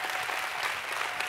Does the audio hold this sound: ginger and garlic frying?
no